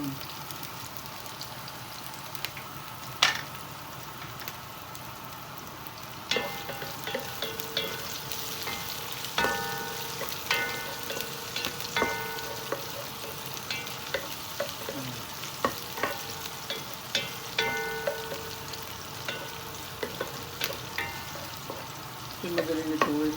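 Chili, ginger and onion sautéing in hot oil for a Filipino mussel dish, a steady crackling sizzle with frequent scraping and clinking stirring strokes against the pan, close and continuous for over twenty seconds.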